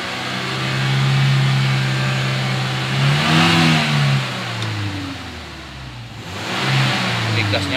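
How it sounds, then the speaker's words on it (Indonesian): A Toyota Innova Reborn engine revs up toward 3000 rpm and settles back, then rises again, the rising and falling engine note loud and close with a voice speaking over part of it. "kita naik ayunkan gas sampai 3000"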